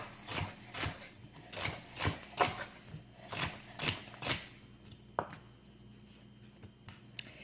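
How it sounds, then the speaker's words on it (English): Knife chopping organic carrots into half-inch slices on a cutting board, a steady run of about ten crisp, close chops in even rhythm, then a pause with a couple of lighter taps. "I'm just going to chop them into, I'm going to say, about 1/2-inch slices"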